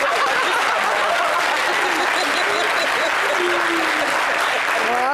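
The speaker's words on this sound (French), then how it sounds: "tout le monde a applaudi" A television studio audience applauds in a continuous, even burst of clapping, with a little chuckling and scattered voices mixed into the steady noise.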